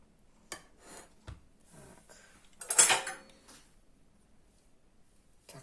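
A spoon clinks and scrapes against a dish while baked, peeled vegetables are mixed with a yellow dressing, giving a few scattered taps and one louder scraping rattle in an otherwise quiet room.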